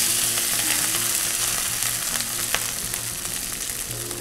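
Rice added to a red chilli mixture frying in a pan, a loud continuous sizzle with faint stirring scrapes and one sharp tap, heard close with no speech.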